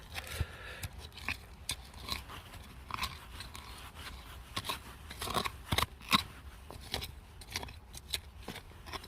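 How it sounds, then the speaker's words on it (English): Crisp crunching and scraping of quartz crystals, including amethyst and smoky quartz, as someone digs, irregular gritty clicks close by, quiet overall with sharper crackles now and then. "I don't like the crunchy sound, because you know that's all just crystals"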